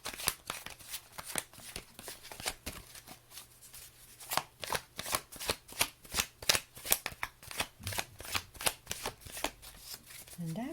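A Higher Love oracle card deck is shuffled by hand in a quick, steady run of crisp riffling bursts, close and continuous for about ten seconds with a faint hum beneath.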